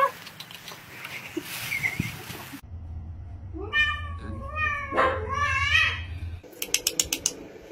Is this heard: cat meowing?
yes